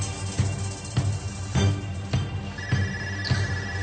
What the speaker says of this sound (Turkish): Telefon çalıyor açsene.